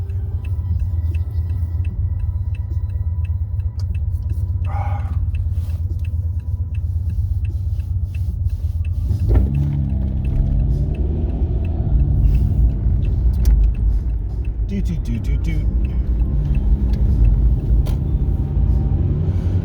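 A car on the road with loose shrink wrap in the back, a heavy low engine and road rumble running throughout, with scattered light rattles and flutters over it and a brief louder clatter midway.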